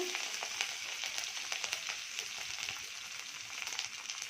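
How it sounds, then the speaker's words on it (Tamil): Curry leaves crackling in hot oil for a chayote kootu, a soft continuous sizzle with faint sharp pops and light stirring, no talking. "கருவேப்பிலை கருவேப்பிலை வதக்கிட்டு"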